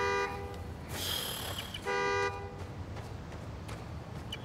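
A car horn honks from a key fob in the Spider-Man Miles Morales video game on PS5: two or three loud, steady blasts with short gaps, over a low game background hum.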